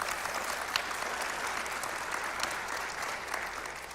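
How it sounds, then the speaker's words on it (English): A seated audience at an evening panel discussion gives a steady round of applause, a dense, even patter of many clapping hands heard from a distance and sustained throughout. "One more round of applause for all of our panelists tonight."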